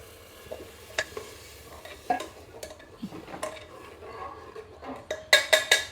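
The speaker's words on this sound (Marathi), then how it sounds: "पाणी टाकून छान परतवून घेतल्यात भाज्या" Vegetables for pav bhaji being stir-fried in a pan with water added: soft sizzling under repeated scraping stirs, ending in a quick run of sharp metal clinks from a spoon against the pan.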